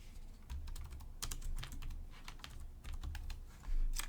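Rapid typing on a computer keyboard, close and steady, with bursts of key clicks and a louder final keystroke, with no talking.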